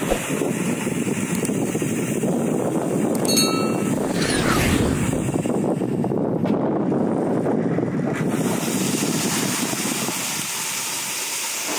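Strong wind buffets the microphone continuously while bulk chicken feed is loaded into barrels, a loud steady roar with gusty fluctuations throughout.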